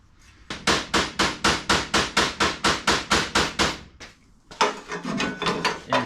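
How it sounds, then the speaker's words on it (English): A hammer beats out a kinked body panel on an MG MGB GT, about fourteen sharp, loud metallic blows in a fast, even rhythm, then a pause and a few rougher knocks. "I actually might have to hammer that out."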